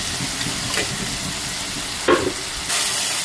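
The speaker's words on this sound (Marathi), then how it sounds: "मसाला आपला मस्त असा फ्राय झालेला आहे।" Continuous close-up sizzling of spice masala frying in a pan, with a couple of brief scrapes and a sudden louder hiss near the end.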